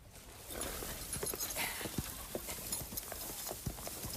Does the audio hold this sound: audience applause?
no